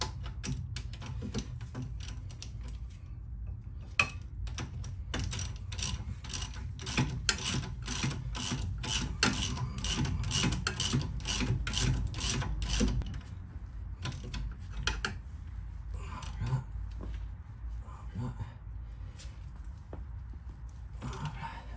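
Ratchet wrench tightening the front shock absorber bolts on a Renault Twingo, a fast run of close, sharp clicking strokes that slows into scattered clicks and handling noises.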